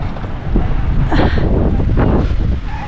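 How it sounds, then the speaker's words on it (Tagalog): Wind blows hard on a cold day in Finland, buffeting the microphone with a loud, low, rumbling roar that surges and eases throughout, with no clear talk. "Mahangin."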